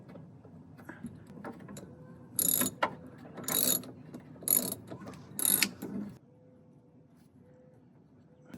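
A ratchet with a deep socket drives seat bolts on a 1968 Ford Mustang, giving four bursts of fast metallic clicking close by over a low background hum, followed by quieter faint clicks.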